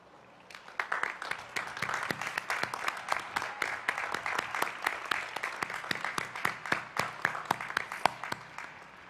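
An audience at a spring university commencement ceremony applauds the faculty, a sustained wash of many hands clapping that swells and holds steadily for about nine seconds, moderately distant and with no speech over it.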